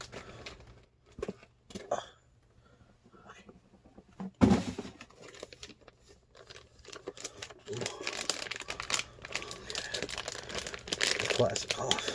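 Plastic wrapping being pulled off a mail-day mystery box, heard as scattered crinkles and a sharp tearing crackle partway through, then denser rustling toward the end, up close and alone with no talk.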